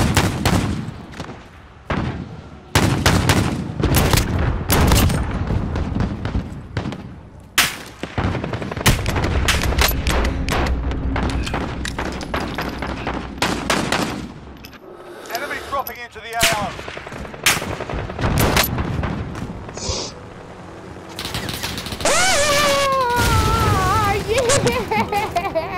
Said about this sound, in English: Oh, they're shooting in the air!